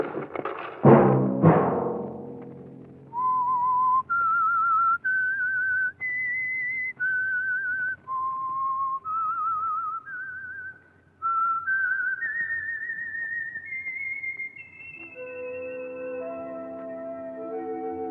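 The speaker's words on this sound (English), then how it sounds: "Let that whistle be your signal for the Signal Oil program, The Whistler, each Sunday night at this same time." The whistled theme tune of the radio mystery show The Whistler, a lone melodic whistle rising and falling through a slow sequence of sustained notes, heard alone after a brief burst of sound at the start, with a chord swelling in near the end.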